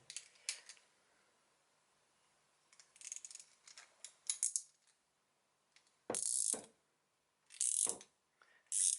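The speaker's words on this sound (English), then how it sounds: "as you're kind of tightening this nut, it's got a tendency to try and pull the drift over with it" A wrench tightens a nut on a drift to press a bearing into an SRAM XD freehub driver, making close, sharp ratcheting clicks and metallic bursts in uneven groups separated by silence.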